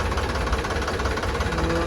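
A 2021 Mahindra 265 DI tractor engine running steadily at idle, a continuous low rumbling drone with even vibration, close and fairly loud, no voices.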